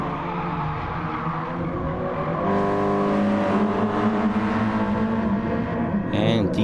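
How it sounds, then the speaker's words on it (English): A racing car in GT Sport brakes very late on the Fuji circuit, its engine droning loudly and steadily with shifting pitch, and a brief squeal comes near the end, close with no talk. "Super ultra late braking!"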